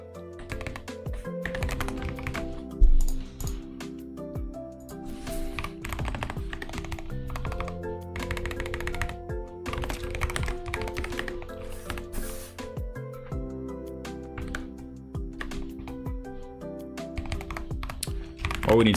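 Fingers clatter steadily across a new computer keyboard, a dense run of quick keystrokes with occasional heavier key hits, close up, and a voice speaks intermittently.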